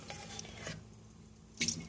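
Water scooped gently from a container while separating quinoa seeds from the flowers, two soft, close watery splashes with a quiet pause between them.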